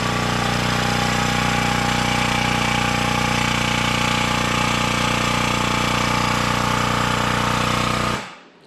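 Mazda RX-7 rotary engine with a full chromoly roll cage, idling loud and steady with a rough, pulsing drone that holds for about eight seconds, then cuts off abruptly.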